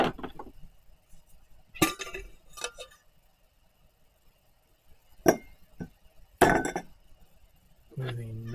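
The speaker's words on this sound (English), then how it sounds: "Let's add another ice cube to that." Ice cubes clink sharply against a cocktail glass several times, bright close knocks separated by pauses, with a brief voice near the end.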